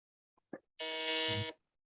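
A single electronic quiz buzzer sounds once during a pre-round buzzer check at a quiz tournament, a sharp steady tone lasting under a second, preceded by a couple of faint clicks.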